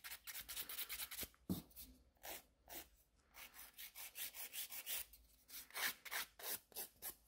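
A 100 grit nail file works over a gel nail extension, giving quiet, rapid rhythmic scratching strokes close up, with a couple of short pauses between bursts.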